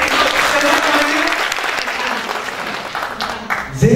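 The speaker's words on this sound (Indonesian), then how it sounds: "Boleh juga dong tepuk tangan." Loud, close audience applause rises at an academic talk and holds steady as a dense wash of clapping, with voices and crowd noise emerging near the end.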